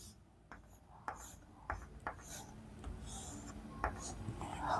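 Bengali vowel letters written by hand in a series of short, scratchy strokes with brief pauses between letters, close and fairly quiet over a soft room hiss.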